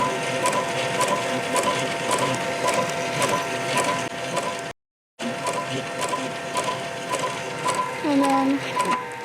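A label printing machine with an ink ribbon running through it chatters with rapid repetitive mechanical clicks and whirring, steady and close, briefly cut out midway and joined by a short squeak near the end.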